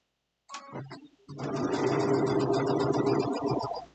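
A sewing machine stitches and back-locks the seam of a fabric Easter basket, a short burst first, then a steady, close whirring run that holds for several seconds.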